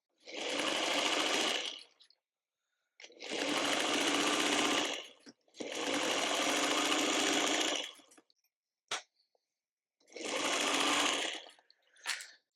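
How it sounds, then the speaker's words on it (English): A sewing machine stitches quilt block rows for a tulip block, running in four steady bursts of about two seconds each with pauses between, plus a few brief clicks, and no talking. "Then I'll grab my bottom row and sew it on."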